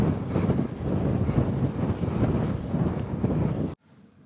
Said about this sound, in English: You can hear it battering against the wooden hut.